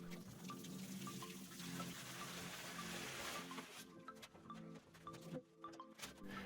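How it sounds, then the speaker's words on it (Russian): Water runs from a tap into a newly installed bathtub to test the drain, a soft continuous pouring and trickling that thins out partway through with scattered small knocks. "наливаем в ванну воду и проверяем"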